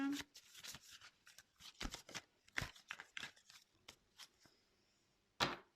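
Tarot cards being shuffled by hand, a string of soft, crisp riffling and slapping bursts in irregular rhythm, close and fairly quiet, ending with one sharper card snap.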